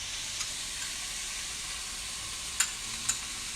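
Vegetables sizzle steadily in a hot pan, a soft even hiss with a couple of brief clicks as ginger and garlic go in, quiet and without talk.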